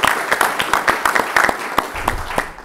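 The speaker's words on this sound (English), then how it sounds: "And I'd say give yourselves a round of applause." Brief burst of audience applause in a hall at a county supervisors candidates forum, a moderate crowd clapping with distinct individual claps, close and lively, tapering off at the end.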